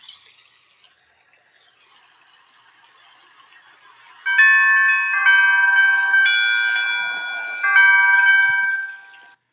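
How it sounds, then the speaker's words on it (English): A door chime rings out a repeating melodic sequence of clear bell tones, loud and close, after a faint hissing, watery background of running water. "Sounds like running water and chimes, right?"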